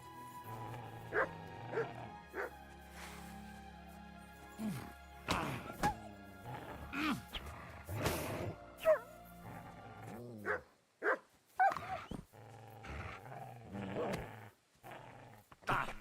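A dog in the medieval role-playing game Kingdom Come: Deliverance 2 barks in short, repeated bursts mixed with growls and yips, fairly close, between quieter pauses.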